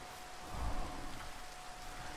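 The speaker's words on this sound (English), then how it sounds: "It's raining" Steady rain falls in the Minecraft video game, a soft even hiss of drops with a faint low rumble near the start and no talking.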